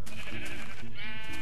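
Sheep bleating in the Minecraft video game, two or three loud, close, wavering bleats filling a short moment with no talk.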